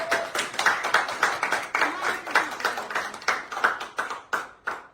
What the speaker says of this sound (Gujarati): તાળી પાડજો તાળી એમ પાડજો કેમ